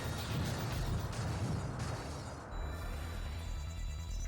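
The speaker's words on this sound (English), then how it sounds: "an explosion." Explosion in the arcade fighting game Capcom vs SNK Millennium Fight 2000: a loud, dense burst with a rumbling low end that holds for a couple of seconds and then thins into a softer mechanical tail.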